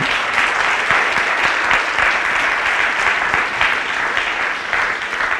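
An audience at an evening conference on work-study programs applauds the speakers, with loud, continuous, even clapping from a full room lasting several seconds and no talk over it.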